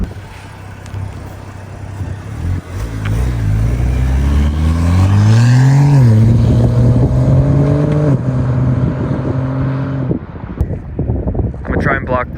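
A BMW E9x with the N55 engine and an ARM Motorsports short intake approaches and sweeps past, its revs climbing loudly to a peak, then holding and fading off, with wind buffeting the microphone and brief talk near the end.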